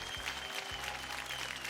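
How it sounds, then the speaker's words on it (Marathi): A studio audience on a Marathi televised dance competition gives a short burst of steady clapping for veteran actresses, fairly faint and continuous throughout. "या मोठ्या दिग्गज कलाकारांसाठी, या ॲक्ट्रेसेससाठी जोरदार टाळ्या होऊन जाऊ दे"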